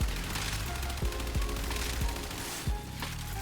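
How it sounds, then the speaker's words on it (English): AX-52 assault rifle from the video game Warframe fires in dense, rapid automatic bursts, loud and continuous, with sharper punchy shots standing out. "I do like the AX-52. I really like assault rifles in the game."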